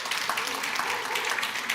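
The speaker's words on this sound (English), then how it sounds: "A warm round of applause for her." Audience at a business empowerment conference applauds as a panelist is called up, a dense, fairly loud wash of clapping over a short stretch.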